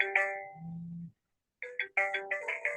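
An incoming VoIP call rings on the Zoiper softphone: a chiming electronic ringtone plays in short tonal bursts, with a pause after the first phrase before the ringing resumes, clear and close in a quiet room.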